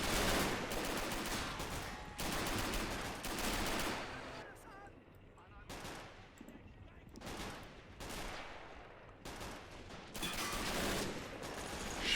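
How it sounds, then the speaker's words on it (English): Heavy WW2 battle din from the Men of War: Assault Squad 2 game, with an MG42 machine gun firing in loud sustained bursts amid dense gunfire, tank and street-combat noise during a Battle of Berlin mod scenario. "Love seeing that MG42 fire like that."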